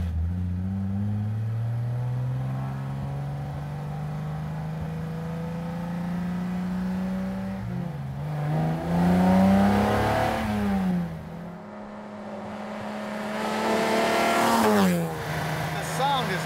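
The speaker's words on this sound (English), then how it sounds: "I want a recording of this engine." The engine of a 1950 Alfa Romeo Disco Volante rises steadily in pitch, then revs sharply in a couple of loud bursts, heard close with people talking over it.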